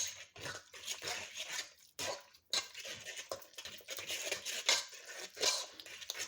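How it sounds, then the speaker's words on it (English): Sweet potato casserole ingredients being mixed in a dish: uneven, close scraping and sloshing of a utensil through thick, wet mixture, with intermittent clinks against the dish and short pauses, and no speech. "next we're just gonna mix this together real good"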